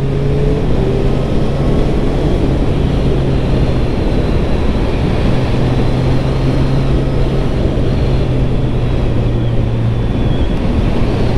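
A motorcycle engine runs steadily while the bike is ridden, its low hum partly buried under loud, continuous wind rush across the microphone.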